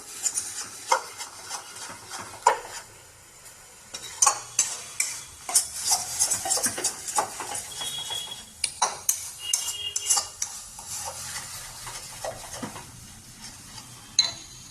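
A paste of ground coriander, cumin, green chili, garlic and ginger fries in a pan for a duck curry, with a soft sizzle under frequent close scraping and clinking of a spatula.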